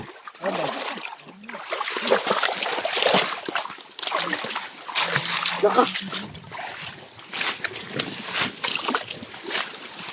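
People wade through deep water, with continuous splashing and sloshing from steps close by while several voices talk and call out over it.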